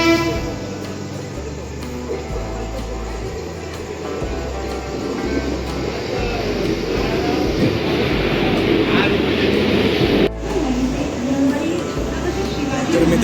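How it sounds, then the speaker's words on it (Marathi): A Mumbai local train pulls into Chunabhatti station, with a loud, rumbling rush of rail noise, a short horn toot and clattering carriages, while a person talks nearby. "ट्रेन आलेली आहे"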